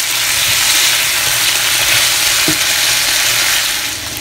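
Fish tikka shashlik pieces and vegetables stir-fry in a hot pan, giving a loud, continuous broadband sizzle with a few soft stirring knocks.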